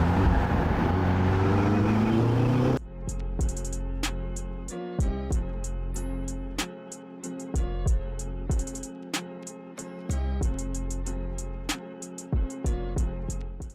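A turbocharged supercar accelerates hard, its engine rising in a loud, rough roar before settling into strong, sustained tones that jump in steps as it pulls through gears, close and dominant with no talking.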